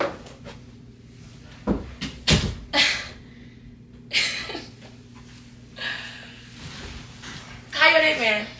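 A door shuts indoors with a couple of close, solid thumps amid scattered knocks and bumps, while people talk and exclaim in between.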